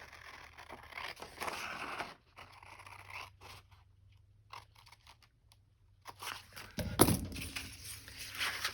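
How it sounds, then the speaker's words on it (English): Scissors cut through a paper sewing pattern in a run of quiet, close snips and crunches, followed by a brief louder rustle of paper being handled. No one speaks. "So let me cut through that."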